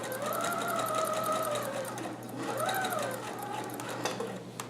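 A home sewing machine stitches the fabric of a Hawaiian shirt in a steady, close mechanical whir, running continuously with slight pitch changes as the speed varies and no voices present.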